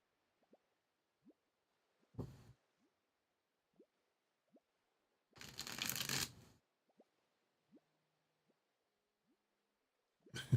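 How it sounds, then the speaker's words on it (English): Tarot cards are shuffled in quiet bursts: soft riffling swishes with a longer burst in the middle, scattered light card taps between them, close and intimate. "today's numerology number is 9, so I'm having to shuffle this 9 times"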